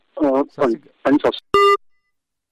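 Someone speaks briefly, then a short steady electronic phone tone sounds, like a line cutting off, followed by silence.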